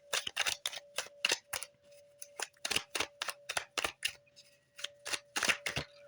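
Tarot cards are riffled and shuffled by hand in a quiet room, giving a steady run of close, crisp papery flicks and snaps with short pauses between bursts.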